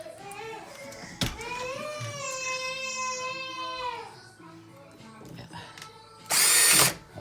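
A power screwdriver backs screws out of an electronic door lock, giving a close, whining motor tone for about three seconds. A short harsh burst of noise follows near the end.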